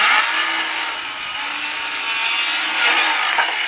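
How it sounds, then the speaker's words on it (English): A Ryobi One+ 18V cordless circular saw cuts through a 2x3 wooden board at a zero-degree setting, giving a loud, continuous high whine of blade on wood, close up with no talking. "We're going to leave this at 0 degrees, show you guys just how easy it cuts at 0 degrees."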